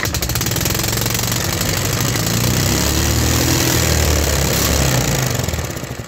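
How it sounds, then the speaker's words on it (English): A 3D-printed high-performance engine running right after starting on the first crank, a loud, continuous buzzing mechanical roar that holds steady for several seconds and eases slightly at the end. "this engine started first crank."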